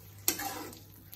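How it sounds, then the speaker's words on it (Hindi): A spoon stirs ridge gourd and fried prawn masala in a hot pan, with a sharp scrape followed by a soft sizzle and a low hum, quiet and brief. "अब इसको अच्छे से मिक्स कर लेंगे।"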